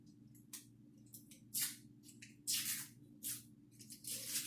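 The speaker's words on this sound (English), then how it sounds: "we need to butter our cake pan" Butter is spread into a cake pan, giving soft, wet, squishy smears and strokes. They come in short, irregular bursts, close and fairly faint, against a low steady background hum.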